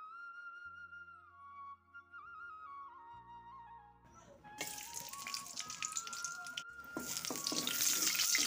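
Saag greens fry in a pan, a crackling sizzle that rises abruptly halfway through and grows louder, with soft melodic music playing throughout.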